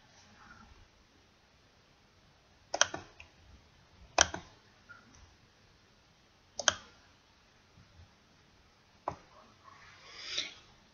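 A computer mouse gives a few faint, crisp clicks, about four spaced a second or two apart, in an otherwise quiet room.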